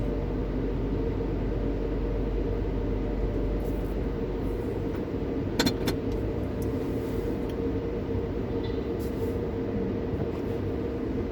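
An automatic car wash scrubbing a car, heard from inside the vehicle as a steady, loud broadband rushing and whirring that continues throughout, with a brief sharp clunk partway through.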